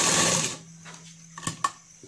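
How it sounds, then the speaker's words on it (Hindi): A sewing machine stitches palazzo pants in a short, quick whirring burst, close and clear, then falls quiet apart from a couple of faint clicks. "खुला रख के सिलाई कर लेंगे।"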